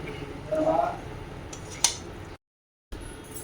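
Sautéed vegetables tip into a pressure cooker on the stove with soft shuffling and a single bright metallic clink from the pot, then a brief dropout of silence before the faint kitchen background returns.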